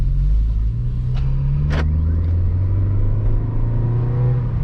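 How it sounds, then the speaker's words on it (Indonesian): A manual car pulls away from a stop in first gear and accelerates, its engine a loud, close, steady low drone with a rumbling road tone and a couple of faint brief squeaks. "angkat setengah kopling, mobil jalan, lepas tambah gas"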